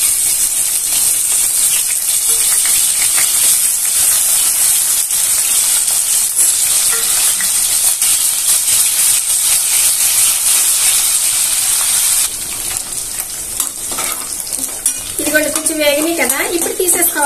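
Dried prawns fry with onions in hot oil, giving a continuous loud sizzle and hiss with occasional stirring scrapes against the pan. The frying settles a little later, and a few faint tonal sounds appear near the end.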